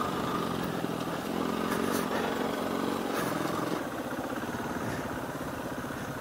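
A dirt bike engine revs up through the gears at a moderate distance, its buzzing note rising and falling and then settling into a steadier drone.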